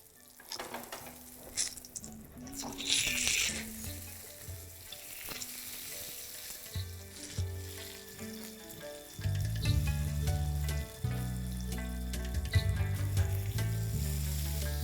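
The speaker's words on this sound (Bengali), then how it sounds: "এই বেগুনটা ভাজতে আপনাদের যা সময় লাগবে" Eggplant slices fry in hot oil with a continuous crackling sizzle, close and fairly loud, and occasional stirring scrapes, while music plays underneath.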